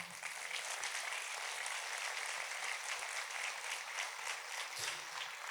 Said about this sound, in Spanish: ¿Cuánto le da un aplauso a Dios por eso?